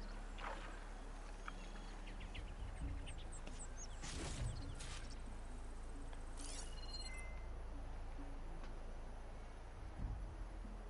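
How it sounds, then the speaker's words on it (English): Birds call across an island landscape in Horizon Forbidden West, with a few faint scattered chirps and quacking calls over a quiet low ambient hum. "You can hear birds everywhere"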